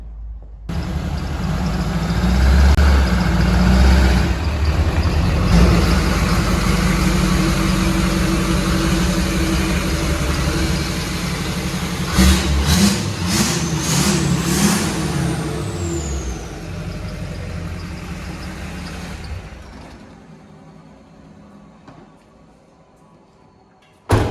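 A high-mileage LLY Duramax diesel pickup with 346,000 miles idles steadily and close by, with a few sharp clunks partway through, before the engine note fades away near the end.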